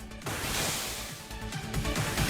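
A grapple boost-and-release move in the Idle Slayer ODM gear minigame plays as a dense, loud rushing whoosh of game effects. The sound swells and surges continuously for a couple of seconds.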